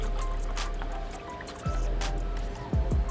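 Pre-blended coolant and distilled water poured into the cooling system of a BMW F80 M3 during a charge air cooler install, a trickling liquid stream with glugging bubbles and a few small knocks and clinks nearby.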